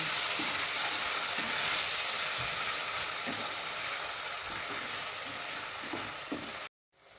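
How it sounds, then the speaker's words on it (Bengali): Chhena (paneer) mixture with tomato sauce and a little water sizzles steadily as it is sautéed in a pan, with occasional soft stirring knocks, before the sound cuts off abruptly near the end. "এবার আমি একটু সামান্য জল দিয়ে আমি এটাকে কষতে আছি।"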